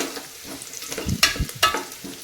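Chopped ginger and garlic stirred and frying in a pan for rice biryani, steady soft sizzle with two sharper scrapes of the spoon against the pan, close and alone without talk.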